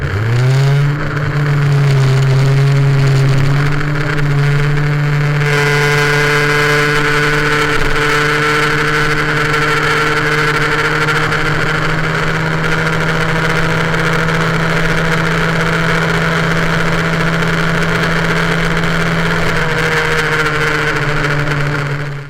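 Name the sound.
MBK 51 moped with Polini 70cc engine revving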